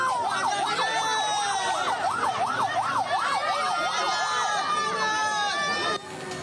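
An ambulance siren wails in a fast, steady up-and-down sweep, loud and close, escorting a body to an army artillery battalion base in Deli Serdang, Sumatra, with crowd noise beneath and a reporter speaking over it until it cuts off.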